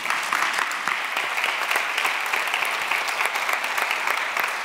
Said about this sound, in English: One round of applause again for the great answers as well.